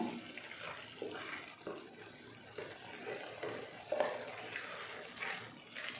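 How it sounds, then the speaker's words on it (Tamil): Liquid sloshing and a spoon scraping through tomato thokku in a pot after water is added, repeated stirring strokes at close range, over a soft watery bubbling. "தண்ணி சேர்த்துட்டு நல்லா கலந்துருவோம்"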